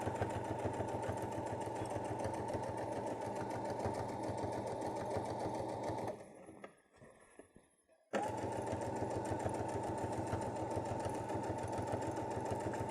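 A sewing machine running a seam on a travel pouch with a back stitch, a steady fast mechanical whir that stops briefly for about two seconds with small handling noises, then resumes at full speed.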